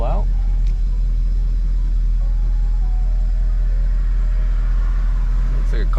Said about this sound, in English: It just sounds mean and totally different here